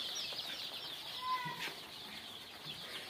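Local chicken chicks in a brooder give faint, high peeping chirps over a constant low background hiss, with a few brief louder cheeps scattered through the clip.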